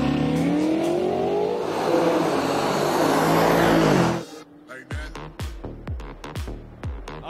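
Audi and BMW race cars accelerate hard off the start in a loud, sustained engine roar with rising pitch, which then breaks into a rapid series of sharp mechanical bursts and revving pulses.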